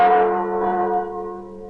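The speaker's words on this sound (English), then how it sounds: "These are the chimes of Notre Dame, Our Lady of Paris, tolling out across the River Seine" Notre Dame cathedral bells in Paris toll across the River Seine, a single loud, resonant strike ringing out and slowly decaying, heard alone with no talk.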